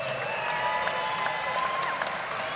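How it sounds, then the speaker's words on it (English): A mixed martial arts cage-fight crowd claps and cheers for both fighters after three rounds, a brief, fairly distant wash of applause with a faint announcer-like tone beneath. "let's have a big round of applause for both of the fighters in this cage"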